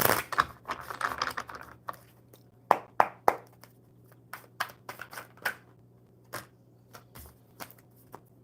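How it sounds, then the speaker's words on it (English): Tarot cards being shuffled by hand, a run of crisp riffling bursts followed by separate sharp snaps and taps, close and fairly loud against a low steady hum. "All right, Olivia, one more good shuffle."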